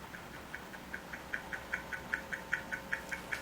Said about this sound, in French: Je vais vous faire entendre le tic-tac de ma montre.